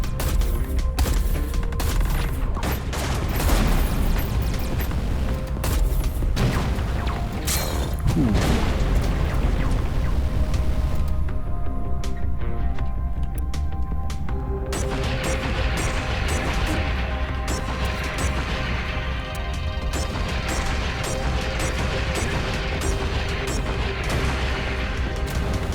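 Rockets fire and explode in the space combat game Everspace 2, with repeated booms and blasts over a dense, continuous layer of game noise and mechanical hum.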